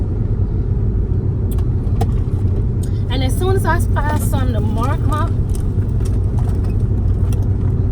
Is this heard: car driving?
yes